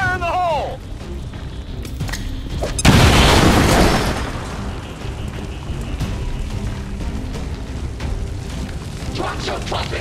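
A grenade detonates in X-COM 2, a single heavy boom after some short game sounds, then fading into scattered effects and ambient noise; a voice is heard speaking.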